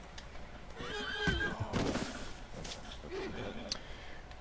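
A horse neighs in Red Dead Redemption 2, a loud, wavering whinny near the start followed by snorts and quieter whinnying, with faint background sound from the game.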